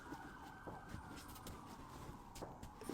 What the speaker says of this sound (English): Hear the siren going?